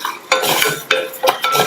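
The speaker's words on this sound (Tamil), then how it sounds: "ஜவ்வரிசி நல்லா பொரியிற அளவுக்கு வறுத்துக்கங்க" Sago pearls roasting dry in a pan are stirred briskly, producing three or four close, crisp scraping sweeps with light rattling and faint sizzle between strokes.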